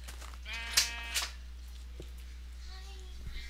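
A sheep in the Minecraft video game gives a couple of short wavering bleats, close and fairly clear, with a few soft thuds and quiet talk around them.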